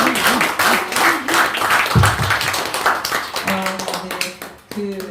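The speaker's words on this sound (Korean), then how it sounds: "힘차게 박수 한번 보내주겠습니다." An audience at a literary talk concert gives hearty applause, a choppy run of claps with uneven bursts, while voices speak over it and a louder knock lands midway.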